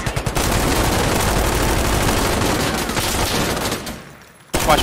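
Sustained machine gun fire in Insurgency: Sandstorm, a loud continuous rattling burst that runs for several seconds, tapers off, and ends with a brief pause before another sound breaks in.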